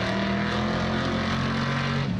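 A race car engine roars close by as the driver gets on the brakes early, the steady drone dropping in pitch near the end, with no talk.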